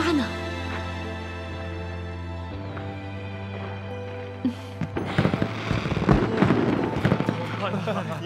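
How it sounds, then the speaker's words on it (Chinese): Fireworks burst in an ancient-costume drama scene: after a sustained musical drone, a rapid series of loud pops and crackles erupts and continues to the end. "怎么会有烟花呢？"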